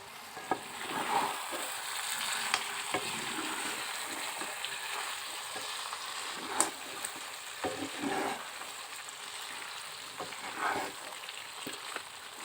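A spoon stirs potato and desi chicken curry cooked with chui jhal in a pot, low sizzling and frying hiss running steadily with a few soft scraping knocks of the utensil against the pot.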